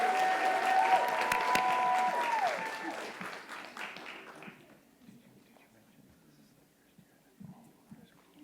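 A school audience applauds and cheers for middle school finalists at a celebration event, loud clapping with a whistle for the first few seconds, then fading to scattered claps and quiet murmurs.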